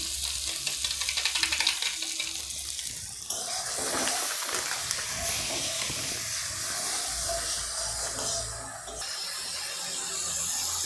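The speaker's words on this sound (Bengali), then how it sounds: "এইভাবে মশলাগুলোকে অল্প একটু জল মাঝে মাঝে দিয়ে ভালো করে নাড়তে নাড়তে একে খুব সুন্দর করে ভেজে নিতে হবে" Ground cumin and Kashmiri chilli powder fry in a pan with a little water while a spoon stirs them, making a steady close sizzle and hiss with scraping stirs and a burst of steam partway through. No one speaks.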